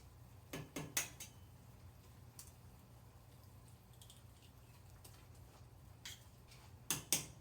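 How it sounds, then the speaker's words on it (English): Eggs being cracked and dropped one at a time into a pot of homemade chicken soup, faint quiet room with a cluster of sharp taps and clicks early on and another pair near the end. "So I drop, wait a little bit, crack the next one, drop."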